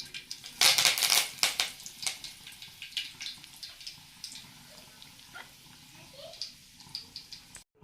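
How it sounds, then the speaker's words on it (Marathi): Curry leaves and mustard seeds hit hot oil for a tempering while idli sambar is being made, bursting into a loud, sharp crackle that settles into scattered, fainter pops and sputters, with no talking. "आता मी जो कडीपत्ता घेतला ती कडीपत्त्याची फोडणी मी घालते"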